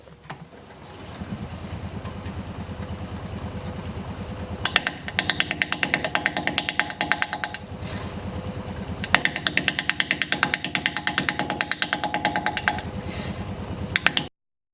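A 5/8 inch standard grind bowl gouge cuts an odd-shaped, out-of-balance wood piece spinning on a lathe, giving a steady droning hum broken by rhythmic rapid tool chatter as the gouge bites, loud and close throughout.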